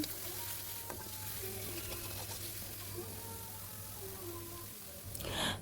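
Steady sizzling of a paste frying in hot oil, with occasional faint clinks and a louder scrape near the end.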